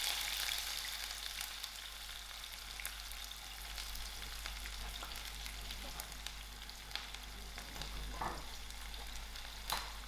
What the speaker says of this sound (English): I'm going to add in my onions to it